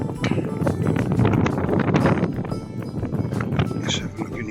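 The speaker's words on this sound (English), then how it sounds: "It's still a bit breezy." Breezy wind on a seawall at Holehaven Creek on Canvey Island buffets the microphone in a loud, continuous low rumble that never lets up.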